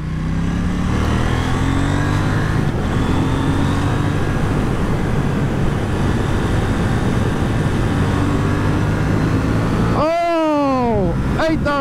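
KTM Duke 790 motorcycle engine under riding, a loud, continuous drone that holds steady, then sharp revving sweeps near the end as the auto blipper works through gear changes, with wind noise and a rider talking over it.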